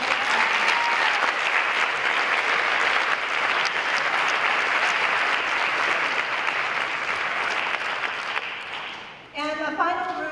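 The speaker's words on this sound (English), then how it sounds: "So if we could give her a round of applause" An audience at an awards ceremony claps in a sustained, dense round of applause that fades near the end, followed by a speaker's voice.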